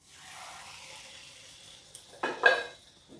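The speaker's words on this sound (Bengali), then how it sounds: "এবার আমি নানটাকে কড়াই থেকে তুলে নেব।" Butter naan is lifted out of a kadai of hot oil: a soft frying sizzle fades, then a few sharp, close metal scrapes and clinks from the utensil against the pan.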